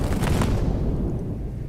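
Gunpowder shipment exploding in the video game Assassin's Creed Shadows, a muffled, dull boom with crackling burst that quickly fades into a low rumble.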